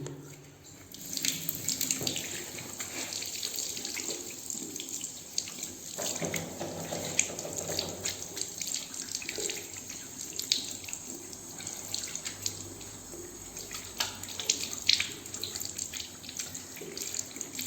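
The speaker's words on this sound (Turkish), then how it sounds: "Benim suyu açayım." Water from a tap runs continuously into a sink while hands are washed after applying a hand cream, a steady close splashing hiss with small fluctuations and no speech.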